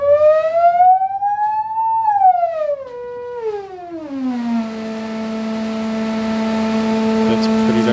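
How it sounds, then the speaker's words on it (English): A gas flame tube driven by a tone that glides up, then sweeps down and settles on a steady low hum of about 220 hertz, loud and continuous with a faint hiss behind it. "That's pretty darn low. That again is about 220 hertz."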